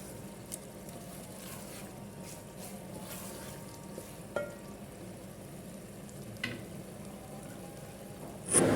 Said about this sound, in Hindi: अब इनको भून लेंगे अच्छे तरीके से